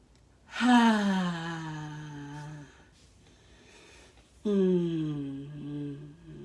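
Two deep breaths during guided breathing practice, each a long, close, voiced sigh-like exhale with a slight tonal, gasping quality, separated by a quiet pause.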